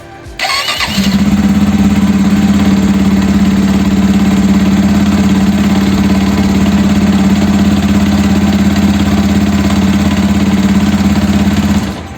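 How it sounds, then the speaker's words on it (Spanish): A motorcycle with a freshly adjusted cam chain tensioner cranks over and catches, then settles into a steady, loud idle with a strong low hum that holds evenly for about eleven seconds before cutting off. "vamos a encender la moto"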